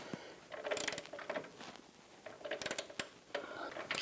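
Wrench clicking and creaking as the cam bolt nut on a 2006-2010 Hummer H3 front upper control arm is torqued to 114 foot-pounds, with bursts of metallic ratcheting close up in a quiet garage.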